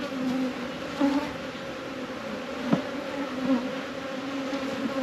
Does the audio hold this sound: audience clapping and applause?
no